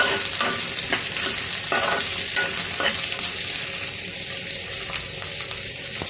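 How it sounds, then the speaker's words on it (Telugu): Onions sautéing in a pan for a spicy chutney give a loud, steady sizzle, with repeated scraping stirs in the first few seconds before the frying hiss carries on alone. "ఉల్లిపాయలు ఈ విధంగా వేగితే చాలు మరీ ఎర్రగా అవ్వాల్సిన అవసరం లేదు"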